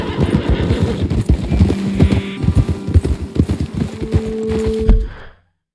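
Horse hooves clip-clop steadily on a trail in Red Dead Redemption 2, close and loud with a snort or two, before the hoofbeats stop abruptly into silence.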